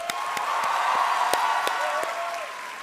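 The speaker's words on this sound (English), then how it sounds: "a big round of applause to all of you" An evening audience bursts into a dense, even round of applause, many hands clapping close together with sharper individual claps standing out, heard on its own without speech.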